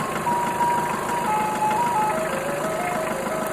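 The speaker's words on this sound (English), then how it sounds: "Yes, it's an ice cream van." Tinny electronic chime music from an ice cream van wanders up and down in a simple tune above the low drone of its idling engine, steady and fairly near.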